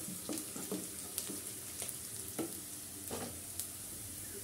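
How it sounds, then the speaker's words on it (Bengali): Sliced onions sizzle and crackle as they fry in a pan for a Bengali pumpkin and Malabar spinach curry, with a steady hiss and a few sharper stirring scrapes throughout. No voices. "পেঁয়াজ ভাজার যে একটি ছন্দ, কি সুন্দর একটি সুর"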